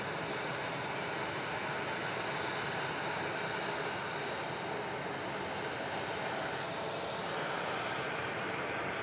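A jet lining up on the runway at Melbourne Airport gives a steady, broad engine roar that stays loud and unbroken for the whole stretch, with no talk over it.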